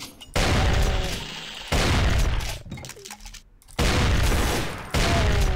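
Gunfire in the video game DOOM comes as loud, heavy blasts that boom and decay, repeating in bursts roughly a second apart, close and dominant with no talk.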